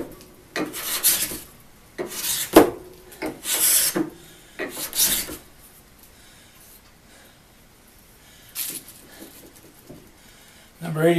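A No. 80 cabinet scraper worked across wood in a workshop, giving close, loud rasping strokes in a rhythmic series of about five, then a quiet gap and a few more strokes.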